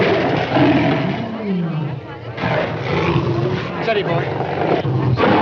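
A lion roars in an old Hollywood classic film, a loud, rough, sustained growl running through the whole moment while someone speaks briefly over it.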